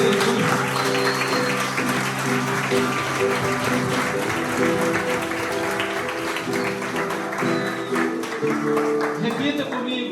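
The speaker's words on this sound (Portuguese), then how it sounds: "Uma salva de palmas para Jesus." Congregation clapping at a church gathering in the Jequitinhonha Valley, loud sustained applause from many hands filling the whole stretch, with a steady hum beneath.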